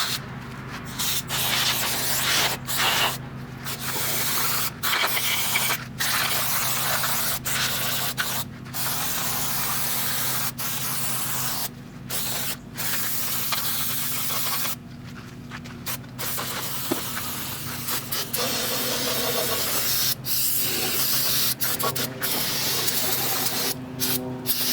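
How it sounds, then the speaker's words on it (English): Brake cleaner sprays onto car parts from an aerosol can in a loud, close hiss, broken by short gaps between bursts, with no talking. "we're going to blast it with some brake clean"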